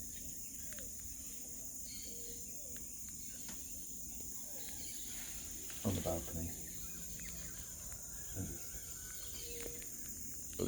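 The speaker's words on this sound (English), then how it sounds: "listening to all the birds and trying to spot a few different ones." Insects and scattered birds calling on a balcony in Costa Rica in the morning, a faint steady insect drone with occasional soft chirps and brief knocks, and a person speaks quietly over it.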